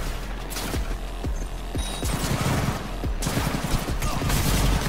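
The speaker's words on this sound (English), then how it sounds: "I guess we're shooting our way out." Rapid gunfire in the video game Cyberpunk 2077, bursts of many sharp shots in a dense, loud barrage that keeps going throughout, with no talk over it.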